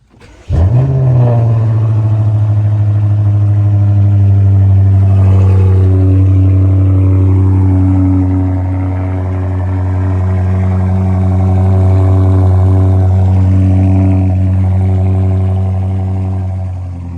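A 600-horsepower 2022 BMW F90 M5 Competition cranks and catches with a sharp loud flare, then settles into a deep, steady, rumbling idle that swells slightly in a gentle rev before easing back, heard up close with no talking.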